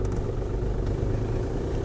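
A car eases away gently on snow without spinning its wheels, a low, steady engine rumble close by with no sharp rise in revs.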